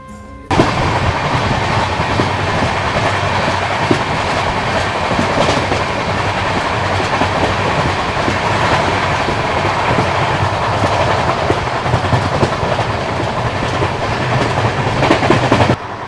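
Double Decker Express passenger train running steadily on the rails toward Alwar in the evening, a continuous loud rumble with faint rhythmic clatter of wheels throughout, no talking.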